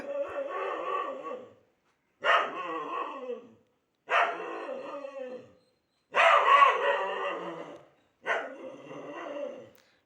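A dog barks in five separate bursts spaced about two seconds apart, loud and close, with short silences between.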